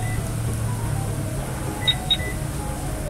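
A 2020 Toyota Yaris facelift TRD Sportivo alarm on its elegant setting gives two quick, higher-pitched chirps, fairly soft and close, over a steady low background rumble.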